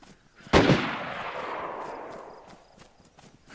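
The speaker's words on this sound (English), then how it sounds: "Yeah, I think they're shooting at me." A single loud gunshot in DayZ cracks out close by and rolls away in a long, echoing tail that fades over about two seconds, with quiet ambience before it.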